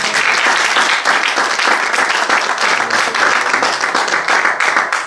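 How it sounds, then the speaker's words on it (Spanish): A church congregation gives loud, dense applause that stays steady from start to finish with no voices over it. "Denle un aplauso al Señor"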